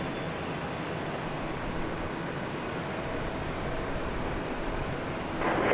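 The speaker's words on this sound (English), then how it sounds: "Off to San Antonio goes that Spirit Jets Hawker 800 XP." A Spirit Jets Hawker 800 XP business jet takes off from Dallas Love Field. A broad steady roar of engine noise holds throughout and swells slightly at the end, heard from a distance with no voices.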